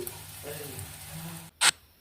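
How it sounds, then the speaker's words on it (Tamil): Sweet potato cutlets sizzle softly in a little hot oil, a faint steady frying hiss that cuts out briefly before a short, sharper burst of crackle near the end. "கட்லெட் எல்லாத்தையும் எடுத்து ஒன்று ஒன்றா எண்ணெய் சூடானதும் அதில் போட்டுடலாம்"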